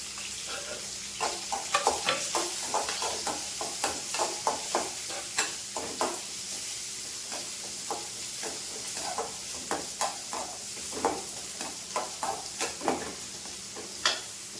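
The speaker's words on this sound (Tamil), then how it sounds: "தக்காளி போட்டு வதக்கியாச்சு" Tomato sautéing in a pan for a ridge gourd chutney, with a continuous hiss of frying and many quick, rhythmic spatula scrapes and taps against the pan, close and without talk.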